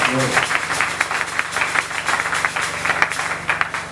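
A church congregation claps in steady rhythmic applause, moderately loud and continuous, with voices and a sustained musical tone underneath.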